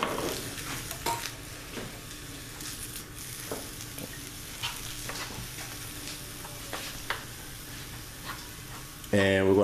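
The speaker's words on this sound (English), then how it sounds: "we're going to place the pan over medium heat, and we're going to add our ground beef first" Ground beef sizzles in a pan over medium heat, a steady crackling fry broken by scraping stirs. A person talks over it throughout.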